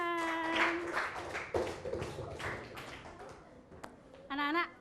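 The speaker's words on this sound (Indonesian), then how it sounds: "Bagus, tepuk tangan." A class of primary school children claps hands together in a classroom, a short burst of scattered clapping mixed with children's voices and chatter, with a brief high-pitched voice near the end.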